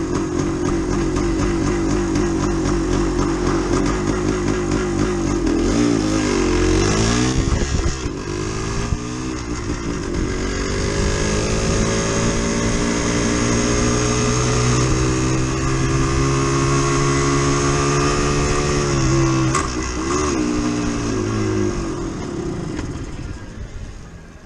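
A Yamaha DT360 motorcycle ridden through the woods revs up and shifts through its gears, the engine note climbing and dropping with each change, then holding a long steady drone before fading near the end; loud and close throughout.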